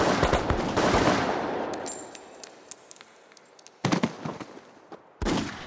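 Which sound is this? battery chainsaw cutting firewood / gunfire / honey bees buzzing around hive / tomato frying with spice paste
gunfire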